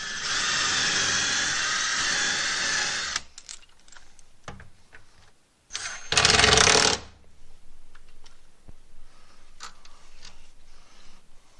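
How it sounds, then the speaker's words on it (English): A power drill pre-drills mounting holes for a whole-home water filter, running in a long, loud, steady whine, then a shorter second burst after a pause, with light tapping and handling sounds between. "Pre-drill the other holes."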